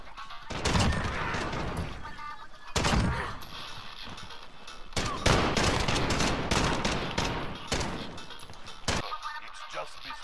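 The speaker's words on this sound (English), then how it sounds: "I quickscope headshot sniped him" Repeated gunshots from a video game sniper rifle, loud sharp cracks in clustered bursts with a few pauses between them, some shots overlapping into rapid fire, with faint voices underneath.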